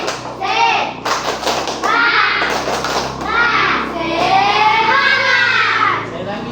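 A grade 6 class does a rhythmic spirit clapping chant, children's voices chanting loudly together over thumping claps throughout.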